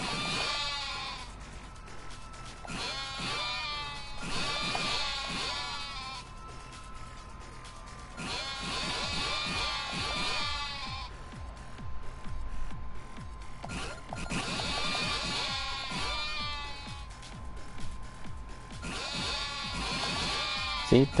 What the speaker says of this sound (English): We just need to take a moment to quickly confirm that they're sheep